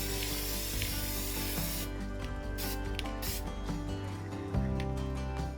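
Aerosol can of Krylon clear gloss varnish sprayed in short and longer bursts over a dot-art mandala, a steady close hiss over a constant low background hum.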